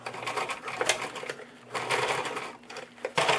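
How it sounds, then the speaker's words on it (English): A sewing machine top stitches through a thick leather belt in short bursts of rapid mechanical clatter, pausing between runs, close and moderately loud. "So now I'm going to go to the machine, I'm going to flip the buckle, and we're going to"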